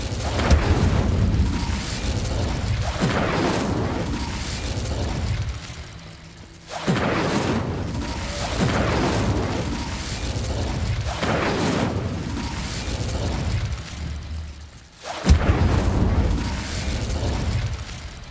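In Hogwarts Legacy, the Incendio fire spell is cast repeatedly, each cast a loud whooshing burst and boom over a constant crackling, roaring fire bed, with sharp impacts near the start and around fifteen seconds.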